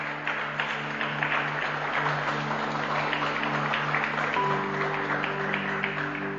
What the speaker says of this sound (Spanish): Dele fuertes palmas a Jesucristo en esta noche